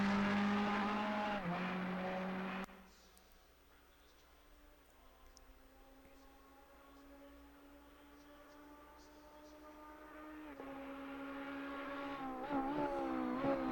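A Ferrari EVO GT3 race car engine drones at Suzuka in the Assetto Corsa Competizione racing game. Its steady high-revving tone drops in pitch during a quieter stretch, then climbs again as the engine builds speed.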